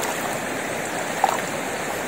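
A river stream flows steadily where a fish catch is being rinsed, giving a constant moderate rush of water with one brief, faint splash partway through.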